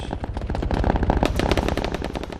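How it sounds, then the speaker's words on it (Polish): Rapid automatic rifle fire in a military shooter game, a fast, steady string of sharp shots fired from the player's own weapon, loud and close with no talking. "chyba strzeliłem czy, czy coś?"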